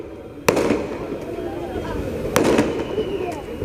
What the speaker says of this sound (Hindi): पटाखा वगैरह ना फोड़ा जाए।